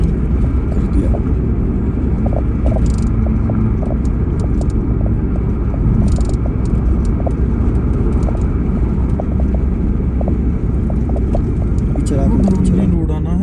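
A car engine idles steadily after being started on a Ladakh road trip between Darcha and Sarchu, a constant low rumble lasting throughout with faint intermittent clicks and some background voices.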